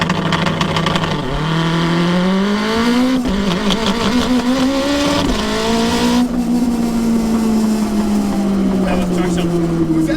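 A turbocharged all-wheel-drive Honda DC5 Integra Type R with a sequential gearbox launches hard, its engine note rising loud and close through rapid upshifts, with brief gaps at each gear change and the pitch climbing steadily afterward.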